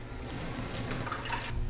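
Cold water runs from a tap into a small container in a home kitchen, a soft, steady trickle with light splashy detail, faint and close.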